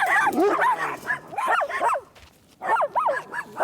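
Dogs off the leash on a walk give short yips and whimpering whines close by, coming in two clusters with a brief quieter gap between.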